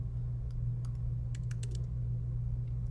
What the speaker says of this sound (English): So now I'm going to have to start typing in numbers.